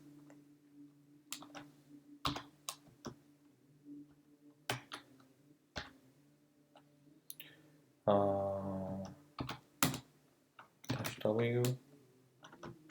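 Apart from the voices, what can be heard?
typing a Linux command on a computer keyboard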